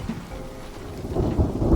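Thunderstorm with steady rain in the Mind Over Magic video game, a dense wash of rainfall with low thunder rumbling and building louder toward the end, no voices.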